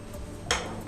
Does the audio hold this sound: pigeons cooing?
no